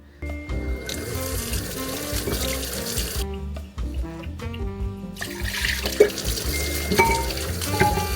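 A kitchen tap runs steadily while flower stems are cut under the flowing water with a knife, a continuous close splashing stream with small shifts in the flow.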